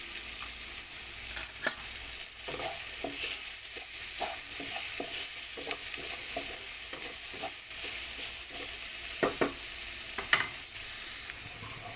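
Beef with tomato, sprinkled with salt, sautéing in a pan for Filipino beef afritada: a steady sizzle runs throughout, broken by repeated scraping strokes of a spoon stirring, close and moderately loud with no talking.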